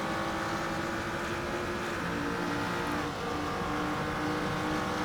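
GT3 race car engine at Mugello in Assetto Corsa, a continuous loud high-revving drone with dense harmonics, holding steady with one brief dip during a shift, no voices.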